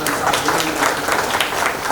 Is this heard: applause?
yes